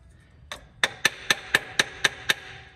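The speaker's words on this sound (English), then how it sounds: "Today I am going to beat these HS2 carburetors" A hammer strikes HS2 carburetors at a card table: eight sharp, close metallic taps in a steady, evenly spaced rhythm.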